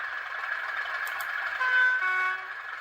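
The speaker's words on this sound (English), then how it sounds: "it's got a couple of horns, got a single and a two-tone horn" Horn tones from a Graham Farish 371-111 model train locomotive with DCC sound, a single horn then a two-tone horn, steady and moderately loud over a continuous engine hum, with no talking.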